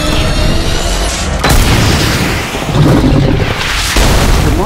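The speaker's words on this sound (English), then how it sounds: "The monster was obliterated into pieces by the explosion." A rocket launcher blast from a Resident Evil zombie film: a loud, heavy explosion booms in over a rumbling action backdrop, followed by a long, dense roar of debris and rolling fire.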